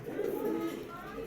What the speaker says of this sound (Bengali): দেখেন টপ কোয়ালিটির একটা নর কবুতর